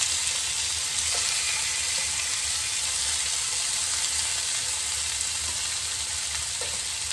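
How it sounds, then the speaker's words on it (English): Steak with garlic powder, pepper and salt sizzles loudly in hot oil in a skillet, a steady close frying hiss with a few faint clinks and no talk. "heat oil in a skillet, add steak, garlic powder, pepper, and salt"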